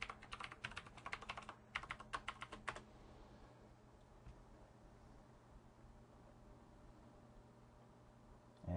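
A password is typed on a computer keyboard during a Zorin 7 Linux install, a couple of short bursts of quick, close key clicks that give way to quiet room hiss.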